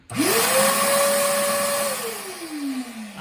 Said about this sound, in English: And then I also have one for my dust collection. I push number 1, on